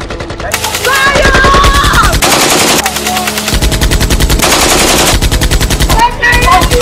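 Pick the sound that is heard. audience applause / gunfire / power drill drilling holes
gunfire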